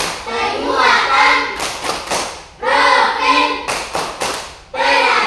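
Students clap a rhythmic group pattern in a classroom, bursts of synchronized claps broken by short pauses, with a teacher's voice and some speech in between.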